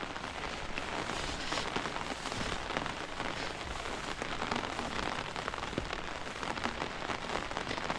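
Steady, dense rain falls outdoors over an earth-digging site for a pond, a continuous close hiss of drops on the ground with no voices.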